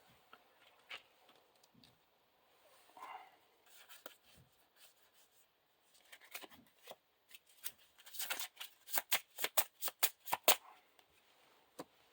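A deck of Lord of the Rings card game cards being shuffled, quiet rustling at first, then a quick run of crisp riffle snaps close by, with no talking.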